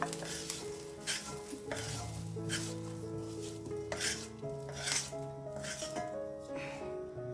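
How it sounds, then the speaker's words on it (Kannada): Garlic sizzles and crackles in hot oil in a pan, with steady frying under occasional stirring and utensil scrapes, fairly close, against a tonal background. "ಬೆಳ್ಳುಳ್ಳಿ ಏನ್ ಜಾಸ್ತಿ ಹೊತ್ತು ಹುರಿಯೋದು ಬೇಡ ನೋಡಿ ಇಷ್ಟು ಹುರಿದ್ರೆ ಸಾಕು"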